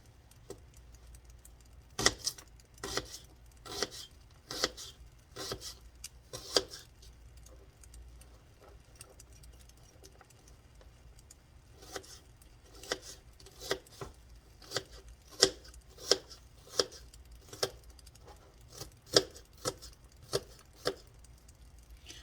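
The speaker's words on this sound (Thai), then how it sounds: "เรามาหั่นหอมหัวใหญ่กัน" Knife chopping onion on a board in short bursts of crisp, evenly spaced taps, pausing midway and then resuming steadily, close up with no talking.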